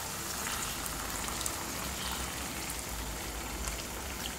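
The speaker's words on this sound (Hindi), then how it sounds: "मैं इसमें थोड़ा सा पानी ऐड करूंगी ग्रेवी के लिए।" Water poured into a pan of dahi chicken to make the gravy gives a steady, even sizzle and patter that runs unbroken at moderate volume, with no talking.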